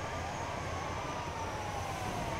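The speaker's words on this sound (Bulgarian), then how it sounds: "Оле, тия линейки са бързи." An ambulance siren in a highway go-kart racing video game wails steadily with a continuous rising and falling tone over a constant engine roar, loud and close throughout.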